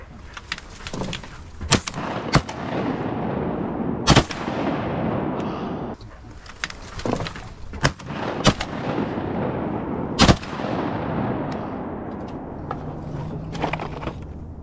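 Shotgun blasts during an opening-day diver duck hunt, several sharp loud reports spread irregularly over the stretch, some close and some farther off, over a steady wind-like background.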